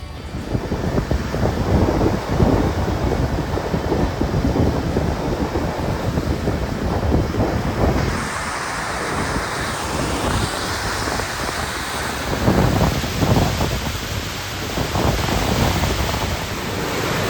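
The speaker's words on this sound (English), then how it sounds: "this is the Tasman Sea" Ocean surf rolls and crashes on the Tasman Sea shore in New Zealand, a steady broadband wash of breaking waves mixed with gusty wind buffeting the microphone, loud and close, with no voices.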